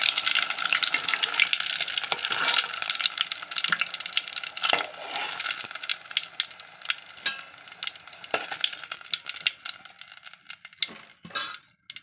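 Stuffed brinjal (eggplant) frying in hot oil, a steady sizzle with bursts of crackling and occasional clinks of a utensil stirring in the pan, close and fairly quiet.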